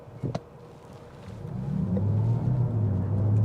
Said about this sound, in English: Let's go ahead and try the 0 to 60 time here in just pure EV mode.